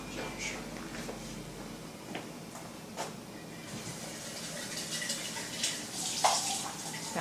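Water rinsing a juicer jar, faint splashing and running tap flow with scattered clinks, quiet and close.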